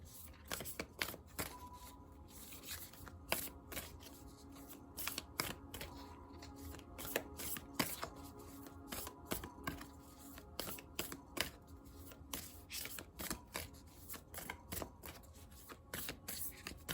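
Tarot cards being shuffled by hand: a steady run of soft riffling and sharp card clicks across the whole stretch, close and fairly quiet, with no talking.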